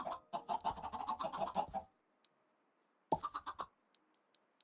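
Minecraft chickens cluck in two short bursts of rapid, choppy clucks separated by a quiet gap, with faint clicking game sounds in between, close and alone without speech.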